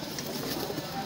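Pigeons being sold at 300 rupees a pair, including kaldu types with white and jersey eyes, coo in a soft, steady murmur close by, with a voice talking among them.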